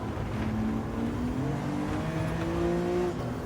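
A BMW M2 Competition engine in the racing game Gran Turismo 7, a fairly quiet steady drone that climbs through gears with rising pitch sweeps under constant road and tyre noise, heard from the cabin with no talking.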